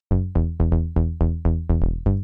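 Serum synth bass with tube distortion at moderate drive, played as nine punchy, harmonically rich plucked notes in a steady repeating pattern, each decaying quickly, loud and alone.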